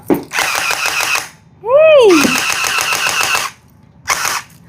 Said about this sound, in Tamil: இது வந்து இந்த கன்னு தான் வந்து சுஜனுக்கு ரொம்ப பிடிக்கும் இதை தான் வெடிக்க போறப்பா வெடிச்சு காட்டுப்பா